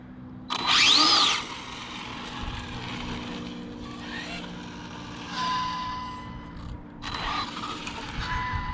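Electric motor of an Arrma RC car on a single 6S pack, revved hard with the rear brake locked: a sharp rising whine burst near the start, then lower mechanical whirring and a couple more brief revs, fairly close.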